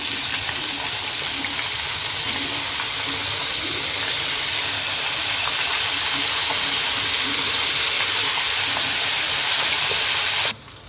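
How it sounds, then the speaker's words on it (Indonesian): Continuous loud sizzling and crackling of flour-coated fish frying in oil, steady and close, with no talking, cutting off abruptly at the end. "kita gorengkan ikan yang saya udah kasih tepung terigu"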